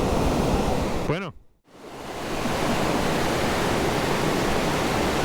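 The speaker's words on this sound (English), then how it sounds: "So, beautiful waterfalls here." Waterfall roaring under heavy rain, a steady broadband wash of falling water that briefly drops out near the start before returning at full, continuous strength.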